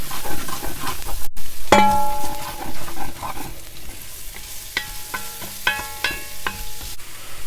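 Vegetable garnishes stirred in a hot frying pan while browning for a meatball and tomato sauce dish, with sizzling and clinking utensil strokes against the pan, close and moderately loud, and no talking.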